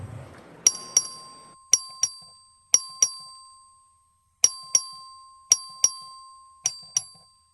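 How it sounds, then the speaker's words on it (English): A clerk rings the voting bell in a legislative chamber, sharp bright dings in quick pairs and singles, repeated about a dozen times with decaying rings and a brief pause midway, no talking. "The clerk will ring the bell."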